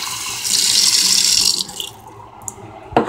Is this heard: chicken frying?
no